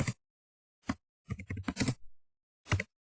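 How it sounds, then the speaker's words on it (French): Sparse, distinct computer keyboard keystrokes, a single tap, then a quick cluster of presses and a final firm press like Enter, close and alone in an otherwise silent room. "Puis on tape sur Entrée."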